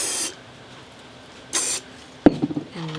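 Two short hissing bursts of spray paint aimed at a Christmas ornament, close and sharp with a pause between them, followed by a few light handling clicks.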